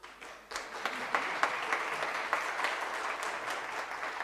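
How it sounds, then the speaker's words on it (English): A second, fuller round of applause from an audience at a panel discussion, beginning with a few scattered claps and swelling into sustained crowd clapping heard at a moderate distance. "that second round of applause"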